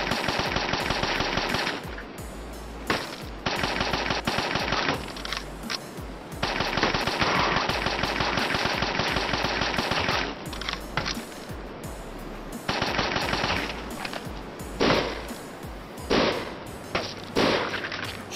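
Sustained machine gun bursts in the zombie shooter game Dead Plague, loud and rapid with several long volleys broken by brief pauses and scattered single shots.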